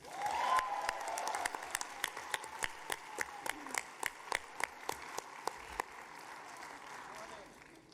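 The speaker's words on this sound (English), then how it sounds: "Let's clap for mixing." Rhythmic unison clapping from an audience at a PAX South 2020 baking challenge, steady evenly spaced claps under a host's voice, fading out near the end.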